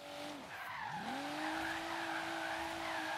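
A car drifts in Forza Horizon 3, its tires squealing in a long sustained skid that dips and then holds a steady screech over the engine's hum.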